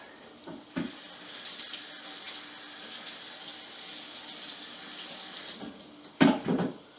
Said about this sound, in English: For the cutting board, we'll rinse that off.